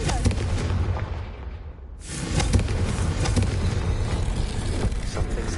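A Confringo explosive curse goes off in Hogwarts Legacy, a loud blast with a sharp rising whoosh at about two seconds, then a rumbling, crackling tail that fills the rest of the moment.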